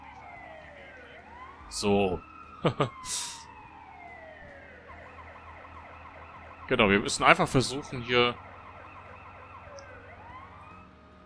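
Ambulance siren in SimCity 4, a continuous wailing tone that sweeps up and down in the background while someone talks in German in short bursts over it.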